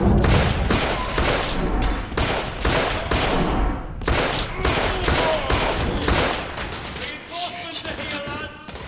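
Dense, rapid gunfire from a firefight in The Order: 1886 game, loud bursts and overlapping shots rattling nearly continuously, with shouted voices mixed in.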